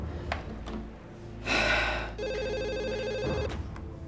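A telephone rings in a household drama scene, a steady electronic trill starting midway and lasting over a second, preceded by a sharp gasp and breathy noises.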